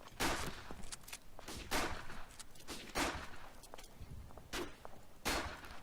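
Single gunshots from a Battlefield 1 weapon on the Verdun battlefield, sharp cracks spaced about a second apart, fairly faint, with smaller clicks and impacts between them.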